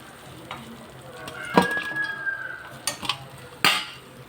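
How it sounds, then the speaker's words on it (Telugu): Bitter gourd slices fry in oil until brown and crisp, giving a soft continuous sizzle broken by the clatter and scrape of a utensil stirring in the pan and a brief metallic clink. "మధ్య మధ్యలో మూత పెట్టుకుంటూ బాగా వేయించేసుకోవడమే."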